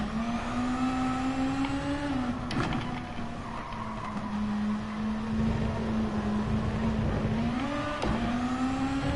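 Volkswagen Beetle race car engine in GT Sport, a steady loud droning note that rises and falls with throttle and gear shifts over tyre and road rumble, heard alone.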